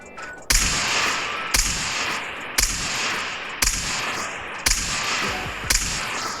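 Rifle fire in GTA San Andreas Multiplayer: six loud, evenly spaced shots about a second apart, each cracking over a constant roar of background game noise.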